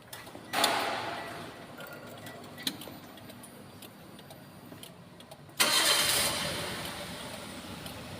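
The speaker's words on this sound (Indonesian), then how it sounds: "Mesin hidup Pak." A car engine cranks and catches at about half a second, settles into a steady idle, then revs up again later, close and fairly loud with faint ticking between.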